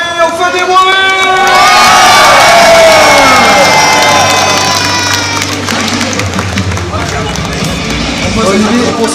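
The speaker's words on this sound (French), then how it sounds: "on peut faire du bruit s'il vous plaît donc pour le champion de Pokémon Crash, Samy, on fait du bruit." A crowd at a Paris Games Week Pokémon tournament cheers loudly for the champion, with sustained shouting, whoops and high voices swelling and then tapering off over several seconds.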